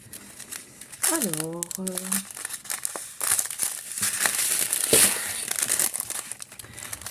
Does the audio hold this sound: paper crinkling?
yes